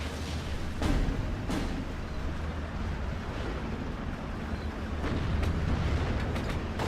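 Artillery explosions and booming gunfire in the WWII strategy video game Steel Division: Normandy 44, Normandy hedgerow battle, a dense continuous rumble with a few sharper distant blasts rising out of it.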